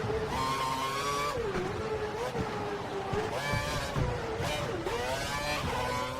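Formula 1 race car in the F1 2012 video game on the Singapore Grand Prix circuit, its engine whining and shifting pitch up and down through corners, with tire noise and faint talk underneath.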